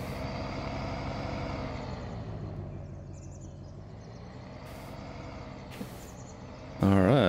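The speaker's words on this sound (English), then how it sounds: "And I can tow it with this farm truck." A farm truck in the video game Farming Simulator 2019 drives along with a steady low engine drone, fairly quiet, with a couple of brief clicks and a louder burst of sound at the end.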